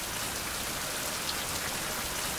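Steady rain falls on a surface outdoors near a dock, a dense, even patter that fills the whole stretch with no voices over it.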